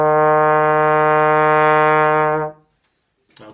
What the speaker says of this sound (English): Let's try that now with the trombone.